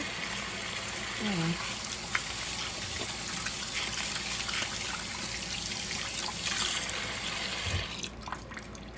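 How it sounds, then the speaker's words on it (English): Tap water runs steadily while hands and fingers are rinsed in a home kitchen, a continuous trickling wash with faint clinks and stirring, with people talking nearby. "I need to wash my fingers."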